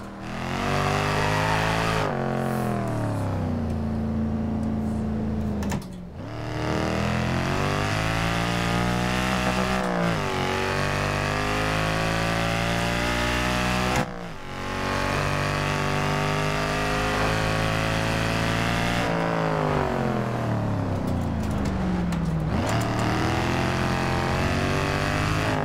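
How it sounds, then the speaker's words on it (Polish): A Mercedes with an active exhaust revs and accelerates in Forza Horizon 2, its engine climbing through repeated gear shifts with brief drops between pulls, loud and continuous, with no talk. "Z zewnątrz mamy ten aktywny wydech od Mercedesa, świetnie jest odwzorowany w tej części."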